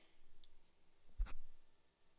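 A single mouse click on a Submit button during a web software installation: one faint, sharp tick near the middle, set against a quiet room hiss.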